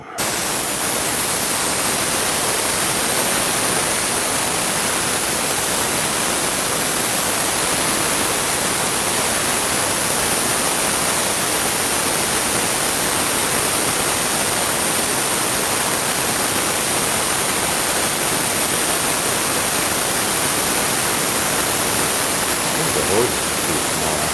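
Water draining from a high pressure compressor during maintenance, with a vacuum drawing it up: a steady, loud, broadband rushing hiss that runs unbroken from start to finish.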